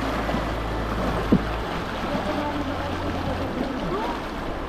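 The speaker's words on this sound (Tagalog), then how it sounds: "Wala pang bagyo, pero yung agos ng tubig," A strong river current near Daraitan rushes steadily as a broad, constant wash of water close by, with a low engine-like hum underneath and a brief knock partway through.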